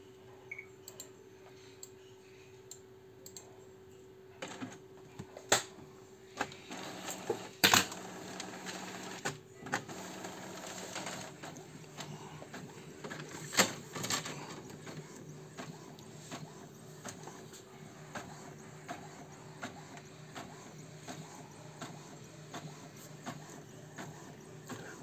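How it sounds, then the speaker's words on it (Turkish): An Epson M1100 printer prints a long stencil page, giving a steady mechanical hum with rhythmic ticking and clattering feed clicks, loud and close, running on its own with no talking. "Şimdi çıktığımızı deniyoruz."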